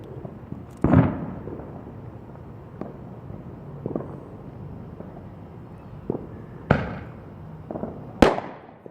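July 4th fireworks set off nearby outdoors: several sharp, loud bangs at irregular intervals, the biggest near the start and two more near the end, with smaller pops and crackles between.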